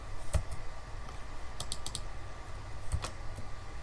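Keys tapped on a computer keyboard in a quiet room, a handful of soft clicks including a quick run of four, over a faint background hum.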